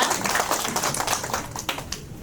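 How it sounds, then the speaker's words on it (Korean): A crowd at a Wangsimni Doseon-dong resident autonomy council gathering claps together, a dense steady patter of many hands that stays fairly close and even throughout, with no talking over it. "여러분 박수 한번 쳐주세요"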